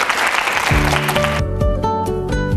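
Audience applause at a televised lecture, a loud burst of clapping from a studio crowd that stops partway through as music takes over.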